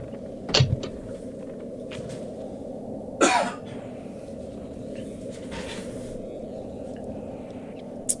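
A single cough near the start, followed by a second louder throat sound around three seconds in, heard against a steady low background hum with no talking.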